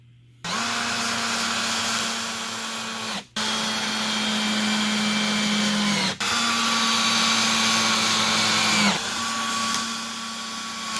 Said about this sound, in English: start drilling the holes